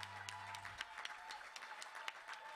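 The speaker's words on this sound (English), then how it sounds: "So let's give the Lord a clap offering." Wedding guests in a church ceremony break into a round of applause, dense clapping that stays fairly faint and distant throughout.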